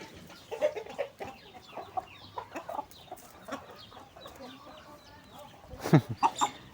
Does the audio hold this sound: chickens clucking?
yes